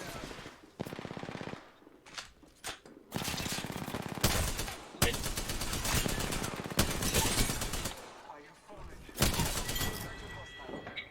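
Rapid automatic gunfire from the video game Apex Legends rattles in loud sustained bursts with brief pauses, mixed with impact and shatter effects while a player talks over the action.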